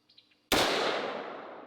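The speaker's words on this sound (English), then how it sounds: "I'm just going to put the gun in front like I would be shooting" A single loud gunshot cracks out after a brief quiet pause with faint clicks, then rings on in a long, slowly fading reverberant tail.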